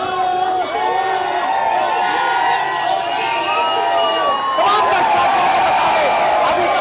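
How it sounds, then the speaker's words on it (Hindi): Crowd of villagers and family cheering and whistling for Neeraj Chopra's Olympic javelin gold, a loud continuous din of shouts and whistles with a clear rise in energy toward the end. "तमाम जो गांव के लोग हैं, परिवार के लोग हैं, तालियां और सीटी बजा रहे हैं लगातार"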